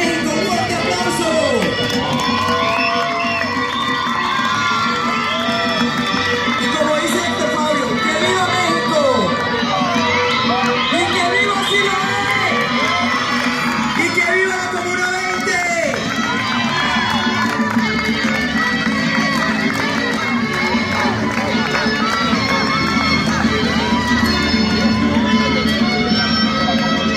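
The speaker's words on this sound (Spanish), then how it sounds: "¡Un fuerte aplauso!" Crowd at a Mexico City carnival cheering and shouting continuously, with children's yells and whoops rising over a dense, steady roar of voices.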